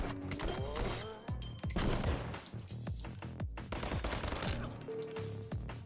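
Gunfire in the first-person shooter RICO, with rapid bursts of loud shots and sharp impacts in quick irregular clusters among clanking game effects. No one speaks.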